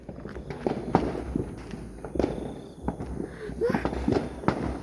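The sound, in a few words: fireworks going off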